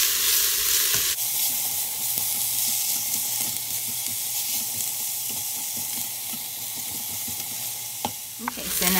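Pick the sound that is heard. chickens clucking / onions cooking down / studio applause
onions cooking down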